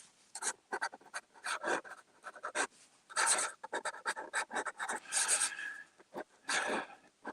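A Parker Jackknife Lucky Curve fountain pen with a springy nib scratches across paper in quick, close strokes, with short bursts and brief pauses in between.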